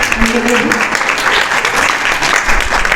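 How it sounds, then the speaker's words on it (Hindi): A loud round of applause breaks out for honorees at a ceremony of a national Arya Kshatriya association, dense crowd clapping sustained for three seconds with a faint voice briefly audible near the start. "जोरदार तालियां"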